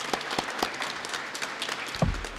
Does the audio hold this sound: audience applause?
yes